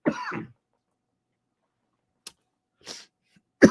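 A single short throaty cough or throat clear close by, followed by quiet and then a few faint clicks and brief noises.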